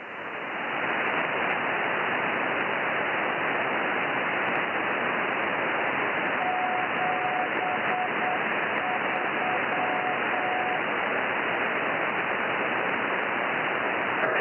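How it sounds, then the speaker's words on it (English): A weak CW Morse code tone on amateur radio's 1.25 m and 6 m bands keys faint dots and dashes midway through, buried under a constant loud wash of receiver static and hiss. "I can hear some weak CW,"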